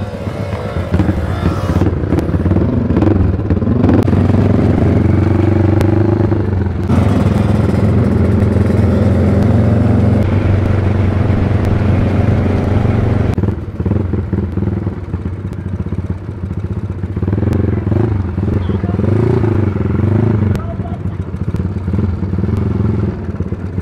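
Motorcycles ride along a road with a steady, loud engine drone and clatter running almost without pause, easing briefly near the middle before building again.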